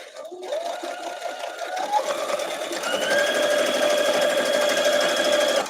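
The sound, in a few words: Baby Lock sewing machine sewing quilt block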